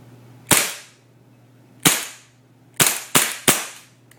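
Five sharp airsoft pistol shots fired at a cardboard box target, close and loud. A single crack opens the sequence, another follows about a second later, then three come in quick succession, with a steady low hum underneath.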